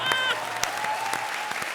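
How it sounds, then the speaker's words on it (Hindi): Studio audience applause on a comedy show, a steady burst of clapping with some vocal tones and talk mixed over it, fairly loud throughout. "जोरदार तालियां।"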